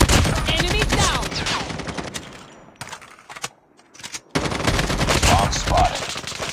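Loud bursts of automatic AK47 and Renetti fire in a coastal search-and-destroy video game round, sustained rattling volleys that thin to scattered shots and a brief lull before heavy firing resumes.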